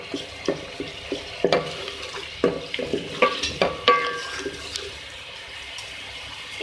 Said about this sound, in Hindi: टमाटर को आप इस चम्मच की मदद से ऐसे कर लें कि वो थोड़ा सा और नरम होके और